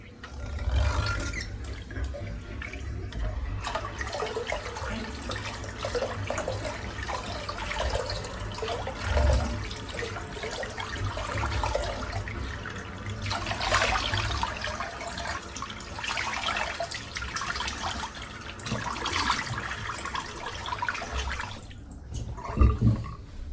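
Running water from a tap rinsing out a shaving brush, a steady splashing trickle close by with occasional louder splashes.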